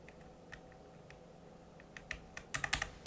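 Typing on a mechanical computer keyboard, quiet and close, with sparse scattered clicks that build into a quicker cluster of sharper keystrokes toward the end, no talking over it.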